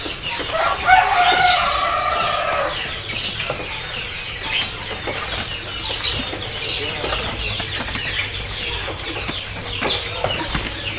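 Caged green leafbirds flap their wings in bursts at a bird kiosk, with rustling flurries over a noisy shop background and some clucking fowl somewhere behind.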